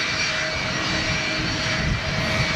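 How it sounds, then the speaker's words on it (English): CFM Leap 1A jet engines on a taxiing airliner give a steady, loud whine and rumble with a thin sustained tone running through it, continuous and unbroken with no voices. "That's the Leap 1A engine."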